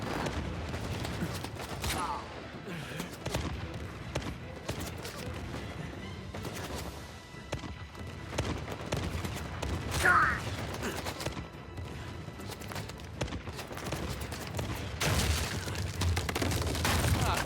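Gunfire in the Uncharted 4 video game, dense bursts of shots and crashes layered over a busy, fairly loud game soundscape with scattered impacts throughout.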